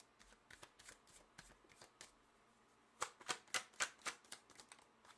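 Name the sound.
shuffling tarot cards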